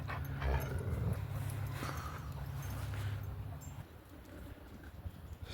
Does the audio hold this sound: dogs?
yes